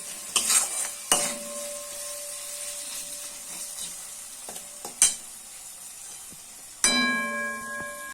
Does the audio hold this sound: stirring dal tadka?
yes